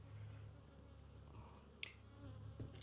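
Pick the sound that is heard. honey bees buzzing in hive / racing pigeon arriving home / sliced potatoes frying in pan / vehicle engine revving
honey bees buzzing in hive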